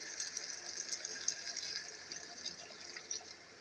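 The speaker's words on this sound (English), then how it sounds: "So throw in some water." Water is poured into a cooking pot of browned beef on the stove, making a steady, soft gushing and splashing that runs for several seconds at low volume.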